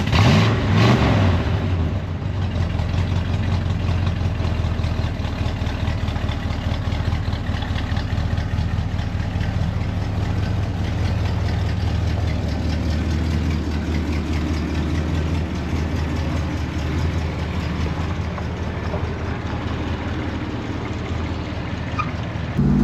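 A 383 V8 in an old Chrysler Newport, abandoned for four decades, runs steadily with a deep low rumble and stays loud and close for the whole stretch, with no voices over it.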